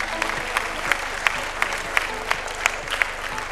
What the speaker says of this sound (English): A thunderous round of applause for all of us.